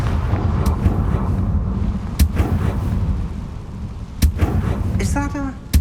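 A Confringo fire spell in Hogwarts Legacy goes off as a few sharp, loud blasts spaced seconds apart over a low rumbling background, with one last crack at the end.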